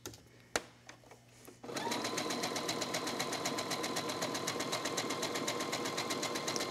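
A sewing machine runs a zigzag stitch across fabric scraps with no interfacing, stitching a gift tag. A couple of clicks come first, then a steady, rapid, even rhythm of stitches runs close up.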